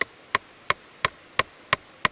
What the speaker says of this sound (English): and then just hammering it into place.